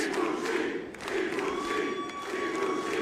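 A packed, standing-room wrestling crowd at the UCC roars in a sustained ovation, with loud massed cheering and chanting filling the whole stretch.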